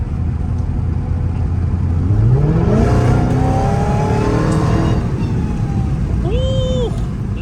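A Dodge Hellcat in afternoon traffic builds a rising supercharger whine over a low engine drone as it accelerates, with a loud wind-buffeted cabin roar throughout and a brief chirp-like sound near the end.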